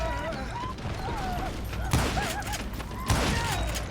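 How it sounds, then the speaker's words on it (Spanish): Two sharp gunshots from the Western shooter Call of Juarez: Gunslinger, about a second apart, punch through an ongoing game soundtrack with a twangy melodic line. "Esos tiros yo estoy seguro que se los pegué"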